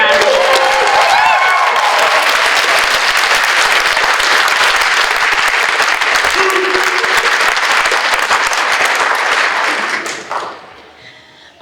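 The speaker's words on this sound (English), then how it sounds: "let's give them another round of applause." Graduates' families and guests at a 2019 online academy graduation ceremony break into loud, sustained applause with some cheering, holding steady before tapering off sharply near the end.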